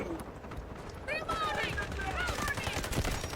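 Gunfire in the shooter game Delta Force, a steady crackle of rapid shots running through the whole stretch with excited voices talking over it.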